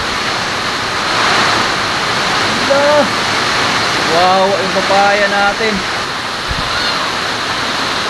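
Steady roar of heavy typhoon rain pouring down throughout, loud and broadband, with a voice briefly exclaiming and talking over it midway.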